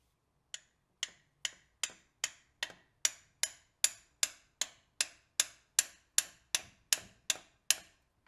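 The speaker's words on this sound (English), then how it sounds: "we're going to hit that with a hammer real quick" A hammer strikes metal in an even, rapid series, about twenty crisp ringing blows at a steady rhythm, nothing else heard.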